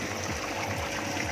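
Water runs from a DIY rooftop shower system. It sounds like a steady, continuous hiss and gush with no pauses, and no one speaks over it.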